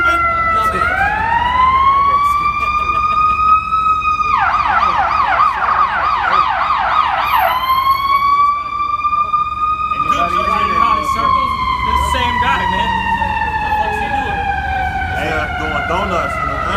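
An ambulance siren wails loudly and sweeps up and down continuously, with a rapid warbling yelp in the middle, close by and dominating the scene.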